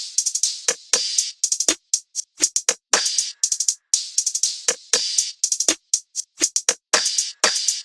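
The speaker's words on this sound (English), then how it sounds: "I did start with this drum loop that I have in a kit that I'm working on" A drum loop from a drum kit plays alone for an RnB beat, a crisp, bright pattern of closely spaced hits and hi-hat ticks repeating in a steady groove, loud and up front.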